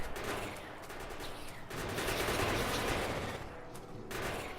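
Dense bursts of rapid gunfire from turrets shooting at worms in the Factorio video game, a continuous crackling fusillade that keeps up loud and steady with brief dips before surging again.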